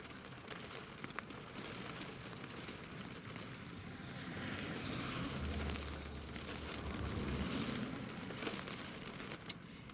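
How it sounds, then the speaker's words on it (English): An Eastern Airways Embraer 190 jet on approach to land at Newcastle International Airport gives a steady, distant broadband roar that swells slowly and stays faint throughout. "Eastern Airways Embraer 190 is just about to land."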